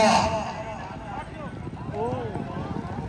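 Horse hooves pound at a gallop on a tent pegging ground during a festival event, a steady clip-clop rhythm under a loud announcer voice and crowd noise, with a brief whinny-like tonal sound.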